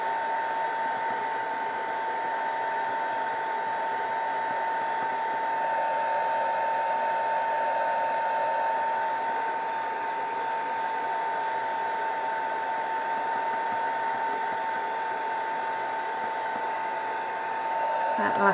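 A handheld dryer blows steadily over stamped ink on a paper craft, a constant close whine with an airy hiss that runs almost unchanged, then cuts off at the very end.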